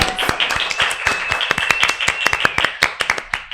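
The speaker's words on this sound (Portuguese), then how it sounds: "Muitas palmas reais por aqui." Audience applause at a seminar on autism pharmacological therapy, a lively crowd of many hands clapping steadily and loudly throughout, with a faint tonal sound running beneath.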